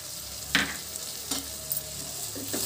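Capsicum and tomato curry fries in a pan with chili powder and turmeric, a soft steady sizzle punctuated by a few sharp stirring scrapes spaced through the clip.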